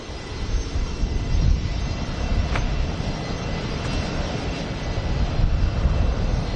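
A heavy jet airliner arrives at Washington Dulles, its broad rumbling roar steady and fairly loud throughout, swelling slightly at moments.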